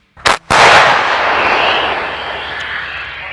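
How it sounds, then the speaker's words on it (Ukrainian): Artillery gun fire: a sharp close blast followed by a second heavy boom, then a long rolling rumble that slowly fades over several seconds, loud and with no voices. "Гарматна стрільба."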